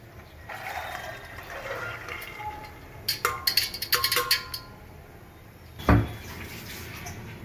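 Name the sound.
draining water from soaked chickpeas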